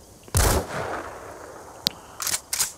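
A sniper rifle fires in Metal Gear Solid V: The Phantom Pain, one loud sharp blast near the start with its tail trailing off, then a brief click and a couple of quicker bursts toward the end.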